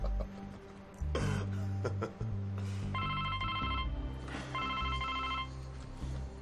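A telephone rings in two repeated electronic bursts, moderately loud, after some rustling and a throat clear in a quiet indoor scene.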